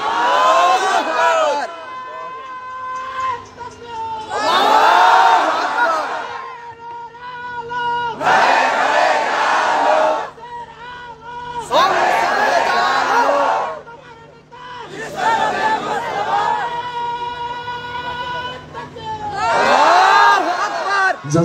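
A large crowd at a live religious gathering in Godagari, Rajshahi roars takbir in unison, five or six loud chanted bursts separated by short pauses, strong and close.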